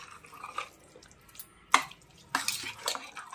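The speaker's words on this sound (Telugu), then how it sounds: "ఇలా బాగా కలపండి." A spoon stirring moong dal payasam sweetened with ghee in a pot, soft scraping and wet clinks with two sharper knocks against the metal, quiet and close, no talking.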